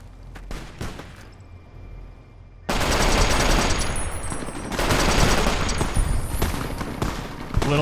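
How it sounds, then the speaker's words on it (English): Bozar automatic gunfire in Fallout: New Vegas video game: a few scattered shots, a short pause, then a loud, continuous, rattling automatic barrage that rolls on for about five seconds with slight surges in intensity. "A little dangerous shooting an automatic that close to NCR, guys"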